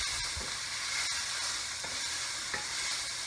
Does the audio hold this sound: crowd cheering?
no